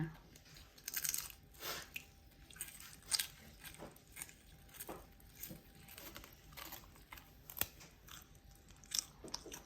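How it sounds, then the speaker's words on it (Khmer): Loud, close crunching as crispy banana chips are bitten and chewed, in irregular sharp bursts with brief pauses between bites. "ខ្ញុំភ្លក់ឲ្យមើល ថាស្រួយកម្រិតណា"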